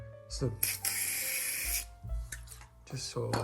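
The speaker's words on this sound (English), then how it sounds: "first you're gonna use some lubricant, right, like that" Short hisses of lubricant sprayed onto bellcrank bearings for an early 1946-48 Willys CJ2A Jeep steering bellcrank, several bursts cutting in and out under someone talking close by.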